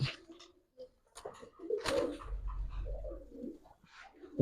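Giribaj pigeons, a male and female pair, give a few low throaty coos in short bursts, close by and moderately loud, with some faint rustling between calls.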